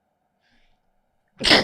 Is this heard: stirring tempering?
no